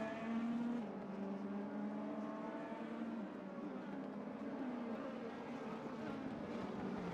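Race cars in the RaceRoom racing game, a white BMW and an orange Audi in a DTM championship race, engines droning and whining steadily at moderate distance with shifting pitch as they battle side by side.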